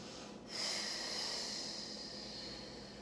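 A long, breathy exhale during a mat Pilates workout, starting after a brief pause and carrying on as a steady close hiss of air, with no talking.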